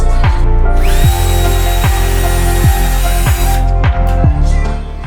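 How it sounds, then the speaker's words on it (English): A power drill bores marked bolt holes into a wooden cabinet for a portable miter saw station, the motor whining steadily under repeated short bursts of bit bite, close and loud throughout with no speech. "Drill all the mark made before."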